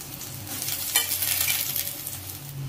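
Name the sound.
soybean chunks frying slowly with salt and turmeric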